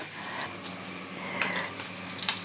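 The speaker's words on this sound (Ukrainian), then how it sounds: "Я долью трошки води" Steady running water pours continuously into a cooking pot, a soft broadband rush with slight splashing variations, fairly close and moderately loud.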